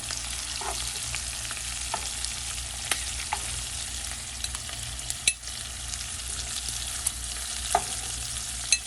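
Shrimp frying in a pan for shrimp and grits, a steady close sizzle throughout with a few faint clicks and taps of stirring scattered over the hiss.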